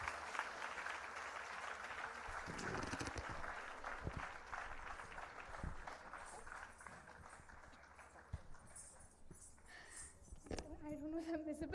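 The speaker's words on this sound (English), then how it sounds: "Let's have a loud round of applause." An audience at a Bharata Natyam arangetram applauds to welcome the dancer on stage, a long, steady wash of clapping that carries on for several seconds, faint and somewhat distant, with voices rising near the end.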